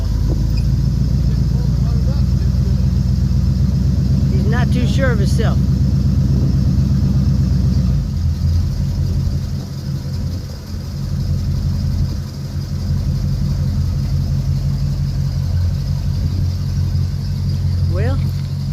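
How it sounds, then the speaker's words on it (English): A loud 1966 Ford truck engine rumbles and idles steadily throughout, deep and close, with someone talking briefly over it near the start. "That's one loud truck, y'all."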